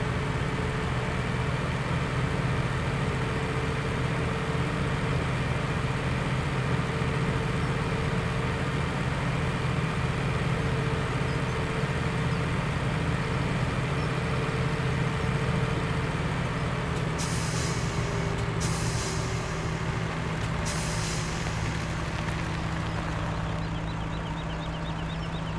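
A truck engine in Farming Simulator 17 runs with a steady, loud droning rumble for the whole stretch, with a few brief hissing bursts near the end and no talking.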